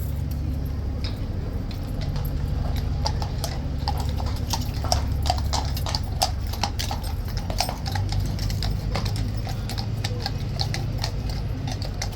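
Horse hooves clip-clop steadily on pavement at Horse Guards, the horse shifting and stepping about restlessly in an irregular, close rhythm over constant low background rumble.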